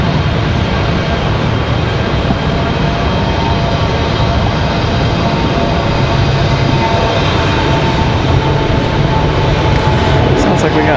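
A Delta CRJ regional jet takes off at Raleigh Durham airport, producing a loud, steady, broadband jet roar with a faint hum running under it that stays constant all the way through.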